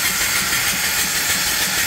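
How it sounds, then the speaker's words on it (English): Steam hisses steadily from the blowdown valve of an antique off-grid steam boiler and engine, a loud, close, broad rushing hiss that holds unbroken and even for the whole moment, with no voices. "The blowdown valve is right here."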